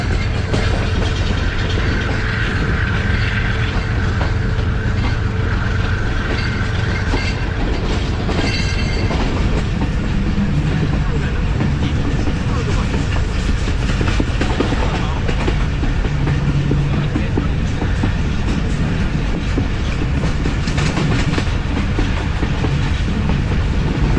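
The 40DN Jaffar Express passenger train running on rails toward Sibi Junction in Balochistan, with a loud, continuous rumble and rhythmic clickety-clack of wheels, occasional squeals, heard from on board.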